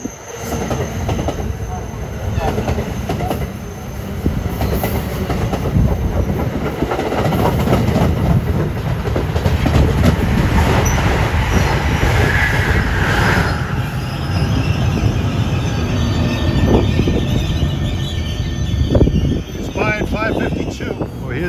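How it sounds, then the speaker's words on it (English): An Amtrak passenger train rumbles past at length at Princeton Junction, New Jersey, wheels clattering and occasionally squealing on the rails, loud and close with a steady roar and voices underneath. "Approaching now is Amtrak 652 from Harrisburg to New York."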